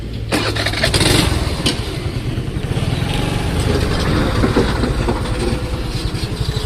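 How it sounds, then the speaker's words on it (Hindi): Scooter engine running loud and close as the scooter is ridden slowly, with a steady low putter and a slight swell around the second second. "ब्रेक छोड़ के एक्सीलेटर दे रहे हैं हम धीरे धीरे।"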